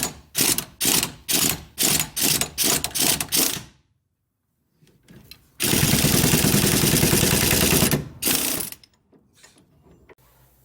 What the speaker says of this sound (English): we have to cut off the end of the bolt.